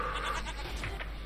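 A goat bleating in the video game Minecraft, a couple of brief wavering bleats over a loud steady background hum, no talking.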